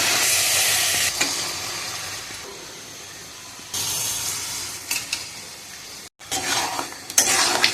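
Meat spices sauté and sizzle in a pan, a loud hissing fry broken by scraping stirs, with brief pauses and bursts of renewed sizzling, close up.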